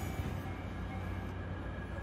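An Ichibata Electric Railway train pulls away from Kawato station, heard from on board as a quiet, steady low rumble of wheels and motor with no voices.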